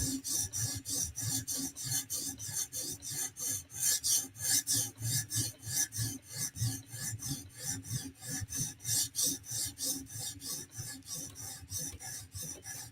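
A blade bevel being sharpened with steady back-and-forth strokes on a stone, a rhythmic rasping scrape repeating about three times a second, close and fairly quiet, with no talking.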